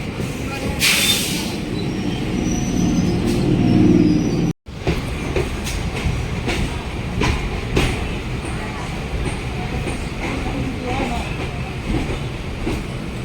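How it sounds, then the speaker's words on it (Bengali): A Barrackpore local commuter train heard from inside the carriage, with a steady loud rumble of wheels on track, rattling clatter and brief squeals, continuous throughout with a short cut partway, and people talking faintly beneath it. "এটা হচ্ছে ব্যারাকপুর লোকাল"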